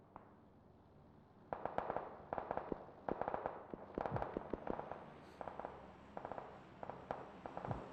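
Rapid bursts of gunfire in the battle game PUBG, clusters of sharp pops repeating irregularly at moderate distance, with overlapping volleys.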